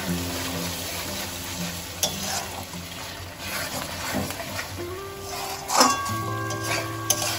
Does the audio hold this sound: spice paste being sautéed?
yes